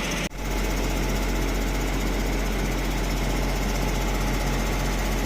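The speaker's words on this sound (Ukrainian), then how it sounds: "Так, Насос пішов." A crop sprayer's pump starts with a brief thump, then settles into a loud, steady engine drone with constant mechanical rumble.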